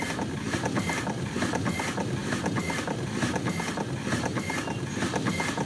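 A 1902 Curved Dash Oldsmobile engine runs at a slow, steady chug below 60 RPM, its continuous mechanical clatter and rhythmic knocking holding an even level throughout, up close with no talking.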